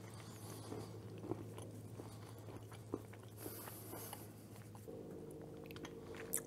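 Biting into and chewing a homemade cherry mash bar, a chocolate, peanut and cherry candy, with a few crisp crunches and soft chewing sounds, close and quiet, no talking.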